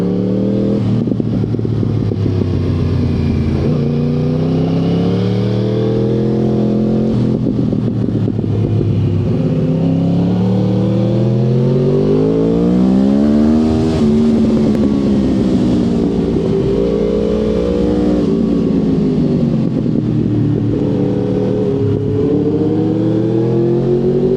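A go-kart engine revs at a kart track in Smalininkai, rising and falling in pitch as it accelerates through the gears, loud and close for the whole stretch with no talking.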